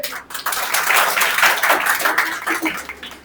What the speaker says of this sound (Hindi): आज हमारे साथ जो जुड़े हुए हैं इस वैकेंसी के लिए सबसे पहले इनके लिए ताली बजाइए